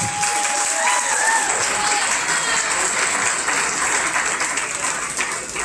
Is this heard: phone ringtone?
no